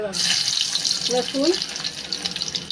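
Garlic dropped into hot oil in a pan for a spicy crab curry, giving a loud, close, hissing sizzle that begins abruptly and continues steadily for a few seconds with faint crackles.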